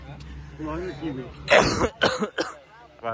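Several sharp coughing or throat-clearing bursts close to the mic, following a stretch of low talking; the bursts come in quick succession.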